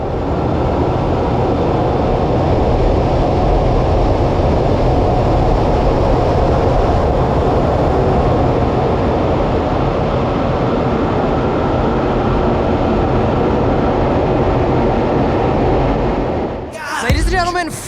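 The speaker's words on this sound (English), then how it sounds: "The aircraft will pass show center in a 90-degree angle of bank at 200 feet in maximum afterburner." An F/A-18 Super Hornet jet passes low at an airshow in maximum afterburner with a loud, sustained roaring rush that holds steady for many seconds, then stops abruptly.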